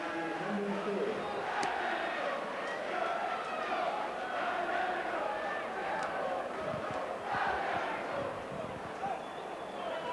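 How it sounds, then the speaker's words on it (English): A football crowd at a Bury FC match in 1998-99 murmurs and groans in frustration, a broad distant roar rising and falling, with occasional shouts above the din. "And the crowd are beginning to get frustrated."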